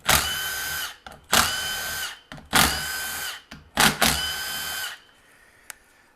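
A power ratchet or driver spins out the 7 mm valve body bolts holding the solenoid pack on the 6L80E transmission of a 2009–2015 GMC Sierra Z-71 5.3L, in four loud whirring bursts, then a single faint click.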